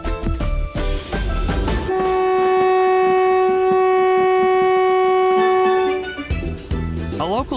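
The St. Kitts Scenic Railway sugar train rumbles along loudly, then sounds a long, steady horn blast for several seconds before the heavy running noise of the rail cars returns.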